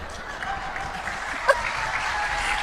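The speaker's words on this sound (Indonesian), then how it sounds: "Nggak usah tepuk tangan, nggak penting." Applause from a church congregation during a sermon, a moderate, even wash of clapping with a brief sharper sound partway through, fairly distant and steady.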